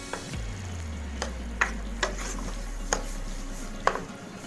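A spoon stirring ginger and green chilli into creamy white chicken makhni in a handi: a handful of sharp, evenly spaced clinks against the pot over a low steady cooking hum.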